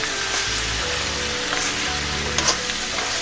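Spring onion stalks frying with chillies and red chilli powder in a pan, a loud continuous sizzle with a few stirring scrapes, close and without talk.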